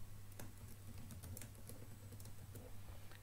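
Typing on a computer keyboard while entering a password during online account setup, a quiet run of irregular soft key clicks with a steady low hum underneath and no talking.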